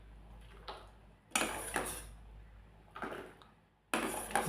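Dishes and metal tumblers clatter and clink in a quiet home kitchen, a few sharp bursts of handling separated by short pauses, close and clear.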